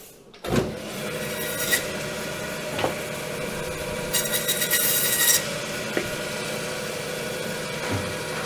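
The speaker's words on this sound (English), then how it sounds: "Let's move over to the bandsaw." Butcher's bandsaw cutting through pork ribs, a steady whining motor drone with gritty rasping as the blade bites bone, a few sharp clicks and bursts of hiss along the way.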